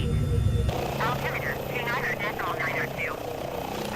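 Airbus H145 helicopter in a Microsoft Flight Simulator flight around Puerto Vallarta, a steady rotor and turbine drone running throughout at an even level, with people talking over it.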